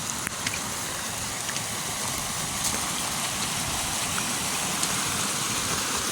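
Heavy rainwater runoff pours steadily down a homestead driveway and on into a creek after a couple of days of rain. It makes a continuous broadband rushing wash, even and fairly close, with no talk over it.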